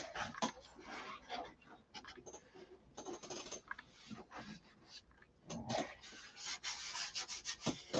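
Sandpaper is worked by hand over the bodywork of a Viper, giving quiet, close, irregular scratchy rubbing strokes that come in uneven bursts with short pauses.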